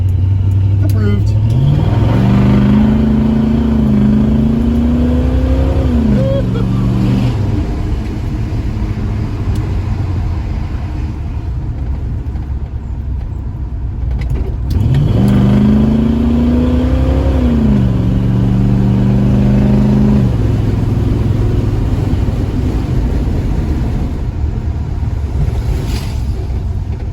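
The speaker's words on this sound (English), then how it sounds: "Burnout." A 1977 Chevy C20 truck engine revving hard twice, each time pitch climbing and holding before dropping back to a rough idle. The sound is loud and close, with wind-like noise around it.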